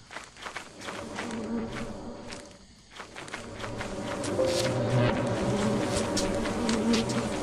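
Bees buzz in a steady swarm in the video game Lethal Company, a dense droning hum that grows louder and closer partway through, with soft footstep-like taps underneath.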